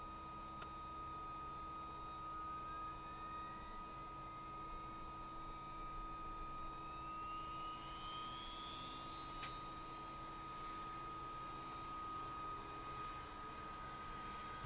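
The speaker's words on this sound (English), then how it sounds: "let's go ahead and roll on engine number 1." A simulated CH-47 Chinook twin-rotor helicopter in Microsoft Flight Simulator starts engine number 1, giving a quiet, steady turbine whine and hum that rises gradually in pitch, with no talking.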